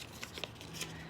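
Cut-out paper net being folded into a cube, a brief few soft crinkles and creases close by, quiet with no voices.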